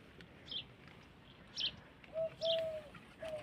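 Pigeons perched beside other pigeons on a rooftop give faint, distant coos and a few short chirps, spaced out over a quiet outdoor background.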